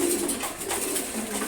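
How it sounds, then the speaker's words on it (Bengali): A female Ghiya Chilli pigeon coos steadily and close by in low, rolling murmurs, with no talking over it. "তারপর এটা হচ্ছে ঘিয়াচল্লি কবুতর, মাদি কবুতর।"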